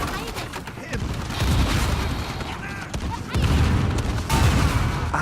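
Cannon fire in the video game Uncharted 4, heavy booming blasts and rumbling impacts that surge loudly in waves, with someone talking over the action.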